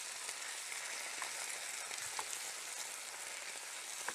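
Potatoes and onion frying in hot oil, a steady soft crackle and sizzle with scattered small pops, close and fairly quiet, no voices.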